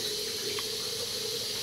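A tap runs steadily for a brief moment, a soft continuous hiss of water filling a bowl to build shaving lather, constant and unbroken, with no voices.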